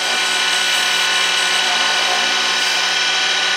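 A negative rake cutter on an Easy Wood tool turns an orange circuit board pen blank on a lathe, giving a loud, steady, close scraping hiss with no voices.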